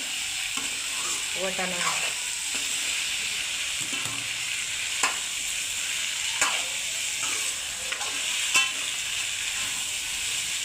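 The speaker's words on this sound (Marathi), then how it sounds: "बटाटा वांगे फ्राय होते चांगले तेलात." Potatoes and brinjal fry in hot oil with other vegetables, giving a steady close sizzle with stirring scrapes, while a voice speaks briefly over the cooking.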